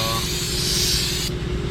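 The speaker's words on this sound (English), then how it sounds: "What we're going to do is spray it down with brake cleaner to remove the oil" Brake cleaner hisses from an aerosol can onto a new front brake rotor for a Toyota Corolla, a steady, close spray that stops abruptly while a low mechanical hum continues underneath.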